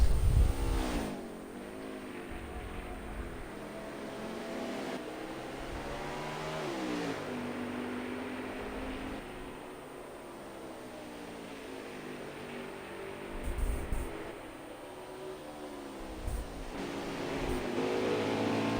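Xfinity race cars at Road America, engines rising and falling in pitch as they accelerate and pass, with several revving sweeps and distant roaring throughout at moderate loudness.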